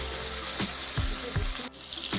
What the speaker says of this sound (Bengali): টমেটোগুলো সামান্য নেড়ে চেড়ে নিয়ে দিয়ে দেব লবণ